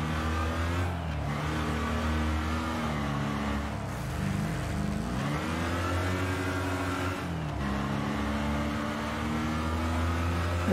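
A race car engine in the racing game Wreckfest, played in VR, drones steadily for about ten seconds. Its pitch climbs and falls with revving and gear changes, with no voices.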